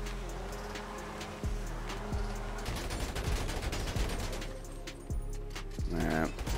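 Repeated gunfire strikes a BF Weevil, a Volkswagen Beetle-style car, in GTA 5 Online, with a sharp burst of shots at about 1.5 seconds and more bursts through the rest, over a steady engine drone.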